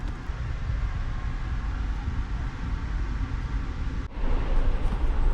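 An Amtrak train creeps slowly along the track with a steady, loud, low rumble that barely changes, and there is a brief dip near the end.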